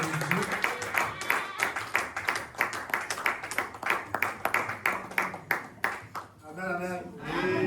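A church congregation at a Sunday baptism service claps in a steady, rhythmic beat, with voices singing and calling out over the clapping before it fades into a sustained tone.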